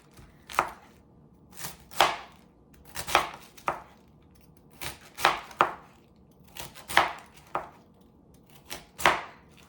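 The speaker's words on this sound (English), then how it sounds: "I'm slicing this thin, just like I would if we had spaghetti" A knife slices cabbage thin on a cutting board for a creamy cabbage casserole. About a dozen crisp, evenly spaced chops sound close and alone, with no talking.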